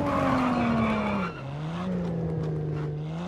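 A Porsche 911 GT3 RS rally car in WRC 10 brakes hard on a rally stage in Japan, its loud steady engine note dropping sharply in pitch as it decelerates, then holding a lower, rougher drone, close and alone.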